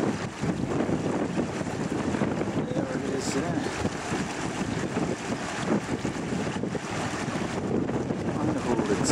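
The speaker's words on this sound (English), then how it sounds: "It's windy." Strong wind buffets the microphone in a steady, loud rumbling roar outdoors in open country beside a meadow pipit nest, with a voice speaking briefly underneath.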